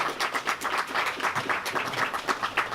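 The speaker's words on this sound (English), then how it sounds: "Let's give a big round of applause for everybody here today" Steady applause from an audience at an Artscape and Wychwood tenth-anniversary celebration, dense overlapping claps at even loudness throughout, with no voices over it.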